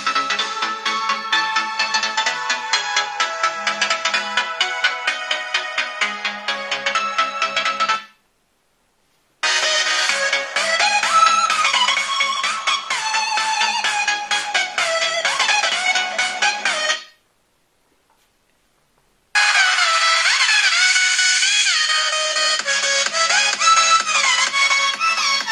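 A bright, melodic ringtone blaring from the stereo speakers of a OnePlus 7 Pro 5G, played in three loud passages broken by brief pauses, heard alone without speech.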